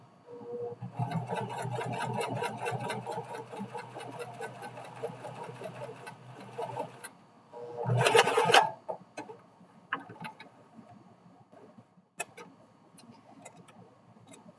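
A sewing machine stitches the lining of a boxy zipper pouch with a fast, steady mechanical whirr for several seconds. It stops, then come a short louder burst of machine noise and a few faint clicks and taps.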